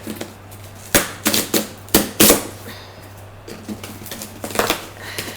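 A closed monthly beauty subscription box being opened by hand: a series of sharp cardboard and paper rustles, snaps and tearing clicks, close and fairly loud, with quieter handling noises between bursts and no talking.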